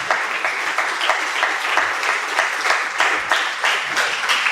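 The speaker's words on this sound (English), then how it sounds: "give all of you yourselves a big applause for the wonderful work" A crowd applauds at a certificate distribution ceremony, dense clapping from many people with faint rhythmic pulses, sustained and fairly loud throughout.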